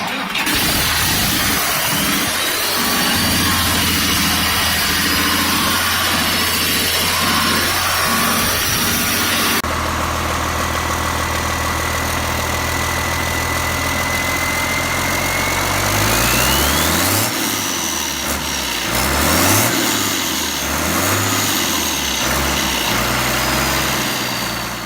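An old air-cooled 603A engine runs loud and close, a rough mechanical drone that shifts in pitch midway and rises and falls as it revs.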